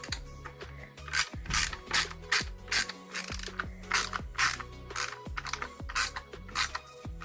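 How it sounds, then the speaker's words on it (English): Screws are worked out by hand from a Wakooshi MS3.5 ant nest with a ratcheting screwdriver, giving repeated bursts of close, crisp clicking separated by short pauses, with no talking. "5 minutes to take all the screws out by hand"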